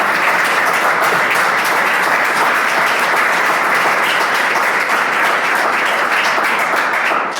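Loud, dense audience applause at an indoor discussion event, continuous and even for several seconds with no voices over it.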